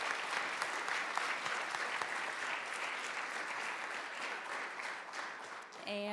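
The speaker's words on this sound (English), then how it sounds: "Can we give all of our finalists a big round of applause?" Audience at a teacher appreciation awards ceremony gives the finalists steady, dense applause from many hands, fairly distant and even throughout, before a short tonal chime breaks in right at the end.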